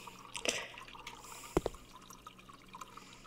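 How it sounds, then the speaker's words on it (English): A water bottle fills from a fridge dispenser in a horror video game: soft trickling and dripping with a few small clunks, faint and close, no talk. "Alright, we're just waiting for our water bottle to fill."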